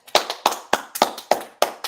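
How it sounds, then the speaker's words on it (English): An audience claps at a class session of a Harlem-based Israelite scripture school, six sharp, evenly spaced bursts in a steady rhythm, fairly close and clear with no talk over them. "All right, clap it up."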